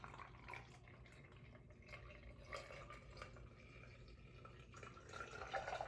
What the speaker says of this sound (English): We pour the coffee into the enema bag.